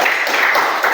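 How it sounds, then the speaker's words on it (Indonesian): Classmates in a school lesson give a short burst of dense applause for a presenting group, a continuous wash of clapping, loud and close. "Berikan tepuk tangan untuk"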